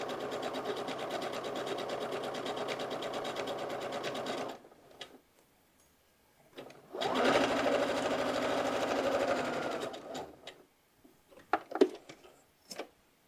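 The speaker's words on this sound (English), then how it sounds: "I'm just gonna sew this down" A sewing machine stitches fabric down along a garment seam using a quarter-inch edge foot, running in two fast steady bursts of whirring, rhythmic needle clatter separated by a pause, followed by a few soft handling clicks.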